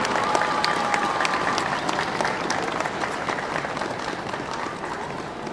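Outdoor crowd at an aviation centenary event applauds steadily and evenly for several seconds as an aircrew heads to the aircraft, with faint voices underneath.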